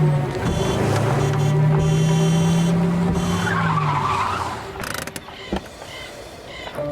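A car braking to a stop, with a long tire skid and squeal that fades out, followed by light mechanical clunks and creaks as the vehicle settles.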